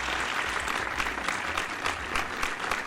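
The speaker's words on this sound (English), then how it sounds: "Let's get an applause there for" A long, dense stretch of steady applause on a Formula 1 podcast, many hands clapping evenly and fairly close throughout, with no one speaking.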